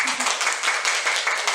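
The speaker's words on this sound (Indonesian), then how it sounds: "Boleh kita berikan tepuk tangan dulu, Bapak Ibu" Audience clapping at a school gathering on positive school culture, a brief burst of hand claps with a voice speaking over it.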